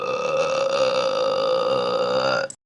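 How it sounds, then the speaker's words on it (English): One long, loud, drawn-out burp rings out in a classroom during a multiplication lesson, sustained for over two seconds before cutting off abruptly. "Who just burped?"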